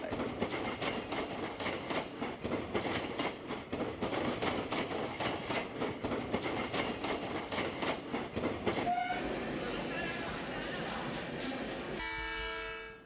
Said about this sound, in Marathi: पूर्ण ट्रेन या तरुणाच्या अंगावरून गेली